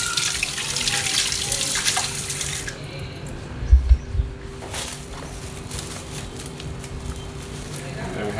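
Tap water runs steadily into a sink while hands are wetted during Moroccan sfenj dough making, a continuous close splashing hiss with a couple of soft low thumps partway through.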